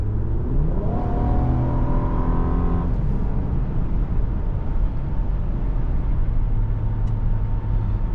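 Cabin of a 2026 Infiniti QX80 SUV with a six-cylinder engine and nine-speed torque-converter automatic, a rising engine rev climbing over the first few seconds, then settling into a steady low road rumble.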